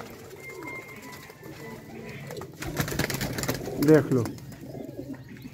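Young racing pigeons coo in low, rounded bursts that grow fuller midway, with a voice speaking briefly over the birds.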